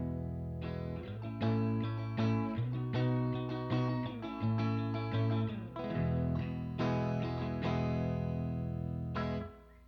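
A clean Stratocaster electric guitar with a touch of reverb plays ringing chords and short rhythmic phrases for about ten seconds, steady and close, with no talking.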